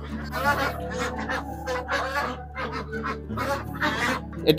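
A flock of Pekin ducks on a farm quacks and honks repeatedly nearby, overlapping calls in an irregular, busy chatter.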